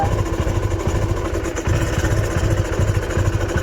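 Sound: motorcycle engine with water in silencer

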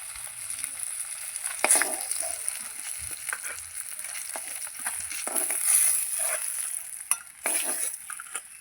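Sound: frying katla fish pieces in oil

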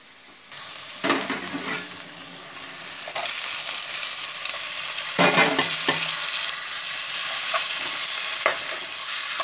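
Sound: frying tomato and green chilli with onion

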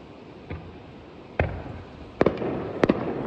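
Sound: fireworks exploding outside

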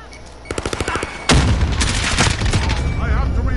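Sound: gunfire from a long-range shot in a video game

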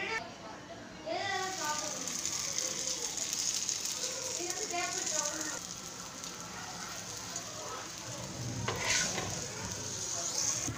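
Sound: naan frying on a dosa griddle

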